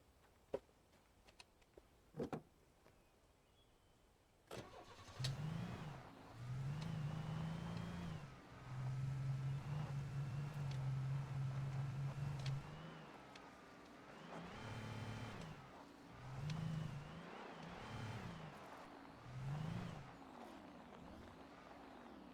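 A car driven in the video game Alan Wake: a few sharp clicks, then an engine starts and revs in swelling bursts, rising and falling in a repeating pattern, fairly faint throughout.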